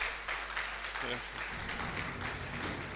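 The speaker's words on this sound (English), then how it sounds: "I think we deserve a round of applause for that" Scattered applause at a trade fair event for Abia State, moderate claps heard somewhat distant beneath murmuring voices and a low background hum, the clapping picking up partway through.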